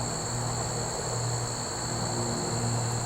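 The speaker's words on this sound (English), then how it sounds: "just listen to all the bugs" Insects in a field keep up a constant, dense buzzing drone with steady high shrill tones, unbroken and even in loudness throughout, with no voices.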